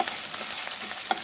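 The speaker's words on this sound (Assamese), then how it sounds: "মাছৰ কণীখিনি মই এনেকৈ পিঁয়াজ আৰু জলকীয়াৰ সৈতে ভাজি ল'ম" Fish roe fried in a pan with onion and green chilli, Assamese style, giving a steady, close sizzle with a faint stirring scrape through a short moment.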